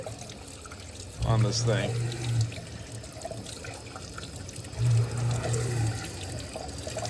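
Tap water runs over a 52100 steel part after heat treating, rinsing off grit in two short gushing bursts, with a person talking between and around them.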